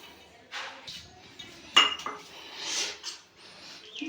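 Curd being spooned into a bowl while mixing masala for a traditional home recipe, giving light metallic clinks and scrapes of a spoon against dishware, a few sharp taps amid soft handling noise, close and fairly quiet.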